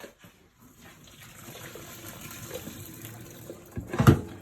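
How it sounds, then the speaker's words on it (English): Water from a pot of cooked lobsters is strained off, a soft continuous trickle and pour that builds into a louder gush and splash near the end. "We strain out all the water."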